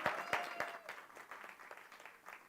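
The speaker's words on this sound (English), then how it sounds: "Let's give her a round of applause," An audience applauds at a keynote event, a dense, fairly faint patter of clapping hands, steady throughout with no voices over it.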